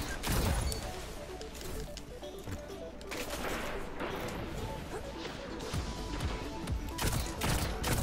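Gunfire from a gun in the Destiny Crucible multiplayer mode, a run of sharp, loud shots and impacts in quick bursts across the whole stretch, mixed with other game effects.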